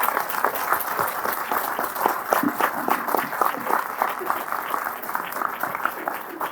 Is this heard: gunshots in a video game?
no